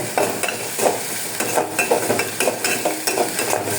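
Chili, ginger and garlic paste is stirred in a frying pan with a spoon, giving repeated scraping strokes in a quick, regular rhythm over a soft sizzle, close and with no talking.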